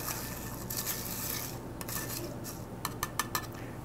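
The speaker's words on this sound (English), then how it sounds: "Just mixing around the mint leaves and making sure that it's really mixed really well" Mint leaves stirred in a cocktail glass with crushed ice, soft rubbing and scraping followed by a few quick metallic taps of a spoon, faint and close.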